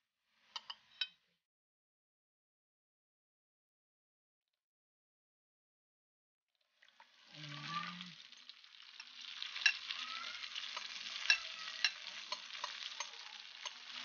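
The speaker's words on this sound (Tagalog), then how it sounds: "Ilagay na natin ang ating tuna." Canned tuna dropped into a hot pan for a budget tuna carbonara, bursting into loud, steady sizzling and crackling with a few stirring scrapes, after a few brief clicks and a long silence.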